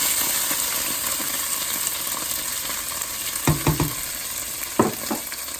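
Tomato sauce hits browned rice in a hot pan and sizzles with a steady, dense hiss, broken by a few sharp stirring scrapes and clinks in the last seconds.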